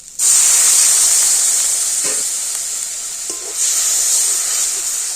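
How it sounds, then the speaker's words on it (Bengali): Ground cumin, garam masala and other spices frying in a pan just after water is poured in, a loud steady hiss of steam and sizzle with occasional utensil scrapes, close and continuous, no voices. "জল দিয়ে সমস্ত মশলাগুলো একটু ভালো করে কষে নেব"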